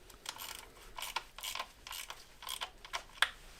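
A ratchet clicks in short bursts as a nut is tightened on the diesel injector clamp of a MINI R56 Cooper, about seven close, crisp rounds of rapid ticking with small pauses and a sharp metallic tap near the end.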